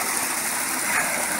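Creek water gushing and splashing around a ram pump junction, a continuous bright hiss close to the microphone, steady throughout with no speech.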